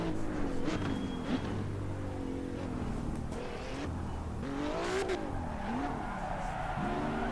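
Race car in the Assetto Corsa Evo video game, driven with traction control switched off, its engine revving and pitch rising and falling steadily through gear changes, with intermittent tire squeal.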